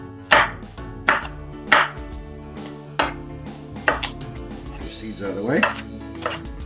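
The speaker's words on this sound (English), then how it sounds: "So we're gonna cut these into some chunks." A knife chops a bell pepper into chunks on a cutting board, giving several sharp, distinct thuds at an uneven rhythm, close and clear, while a voice talks briefly between cuts.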